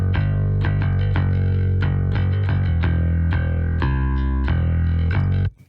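A clean electric bass plays a run of plucked notes with deep low end and clear midrange, ringing steadily before stopping abruptly.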